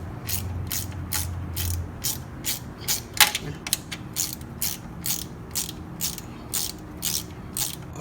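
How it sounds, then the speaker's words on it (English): A ratchet fitted with a size 10 socket unbolts the battery hold-down plate on a 2018 Slingshot SLR, giving rapid, regular clicking strokes, close and crisp, with no talk. "we're gonna go ahead and unbolt the plate that holds down the battery"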